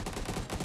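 Rapid gunfire bursts from the Free Fire video game, a short, faint rattle of quick shots with no talk.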